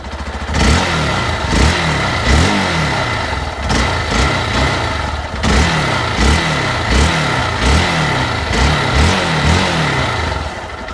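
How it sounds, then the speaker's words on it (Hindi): A Hero Xpulse 200 BS6 single-cylinder motorcycle idles with its exhaust thumping close by, then takes repeated short throttle blips in a regular rhythm, each rev rising and falling quickly. "So let's fire up the engine and listen to this exhaust sound. Of course it is a single cylinder motorcycle"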